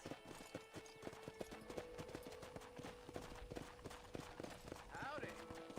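Steady clip-clopping of horse hooves at a walking pace in Red Dead Redemption, with a brief whinny near the end and a voice talking faintly underneath.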